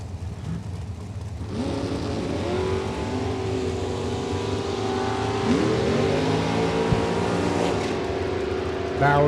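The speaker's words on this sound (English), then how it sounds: "James Riddle, 679 there on the green Mopar" Green Mopar drag racing car revving on the track, a steady loud engine drone with rising pitch sweeps and a sharp pop near the end, while a track announcer talks over it.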